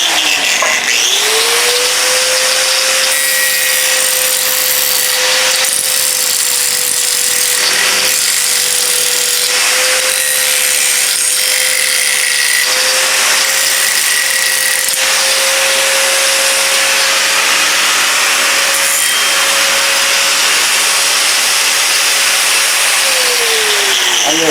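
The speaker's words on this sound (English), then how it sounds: "we're going to take an angle grinder and we're going to run it around the edge" An angle grinder runs along the edge of a 66-pound Vevor steel anvil, a loud, steady whine held for about twenty seconds after a quick spin-up, then winding down at the end with no talking.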